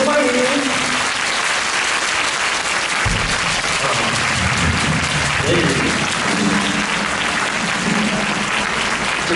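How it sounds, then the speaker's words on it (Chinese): Loud, sustained audience applause fills a charity concert at National Taipei University of Technology, with a voice speaking over the dense clapping at times and occasional crowd cheers. "来啊，热烈掌声欢迎！"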